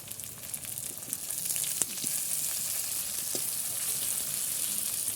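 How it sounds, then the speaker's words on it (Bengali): Onions and sliced green chilies fry in hot oil in a pan, a steady, close sizzle with occasional clinks and stirring scrapes. "পেঁয়াজটা কিছুক্ষণ ভেজে নিতে হবে।"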